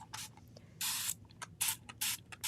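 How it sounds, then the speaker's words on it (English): A handheld spray bottle misting water onto watercolor paints, giving several short, bright hissing bursts of varying length, close and fairly quiet, with no talking. "another couple of things that you might want would be some kind of spray bottle"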